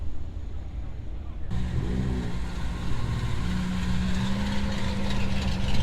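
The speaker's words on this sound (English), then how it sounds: "That Mustang doesn't sound half bad" A Ford Mustang engine runs at a Sunday car meet at Brooklands, a loud low rumble that swells as a steady tone rises, heard close and continuous.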